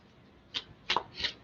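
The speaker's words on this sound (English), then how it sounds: "I'm just going to keep shuffling here." Oracle cards are shuffled by hand during a full moon reading: three soft, quick riffling bursts, close and quiet, with no talking.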